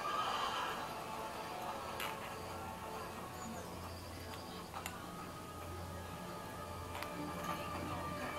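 Horse whinnying in Assassin's Creed: Brotherhood, a short neigh near the start over steady game ambience, with faint ticking clicks scattered through the rest.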